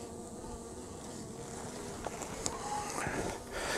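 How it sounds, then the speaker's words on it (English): A dense, continuous buzzing hum of many honey bees in a winter hive, steady and close, with a few brief louder bursts near the end. "So let's see what the bees are doing on the bottom of this frame."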